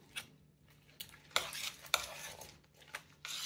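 A pan mixture with vinegar being stirred, giving a few scraping, clinking strokes with soft sizzle between them, fairly quiet and spaced out, with no talk.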